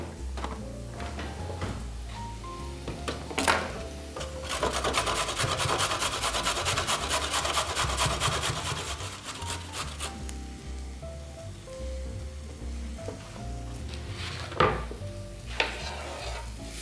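A carrot is grated by hand, producing repeated scraping and rasping strokes that swell into a dense stretch of rubbing in the middle, with faint kitchen clatter and no speech.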